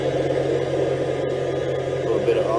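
A 1975 International Scout II, missing a headlight, runs with a steady, even engine drone throughout, close and fairly loud, with a constant low hum and no revving.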